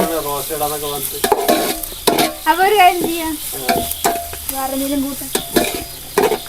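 Food coated in ginger, garlic and yogurt fries noisily in a pan, with busy sizzling and stirring throughout and tonal sounds mixed in.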